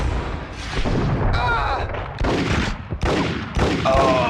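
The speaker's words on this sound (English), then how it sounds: "Shot him on the foot." Gunshots in the 2001 PS2 video game Max Payne: several loud, sharp blasts spaced irregularly over a few seconds, each with a short ringing tail, close and dominant.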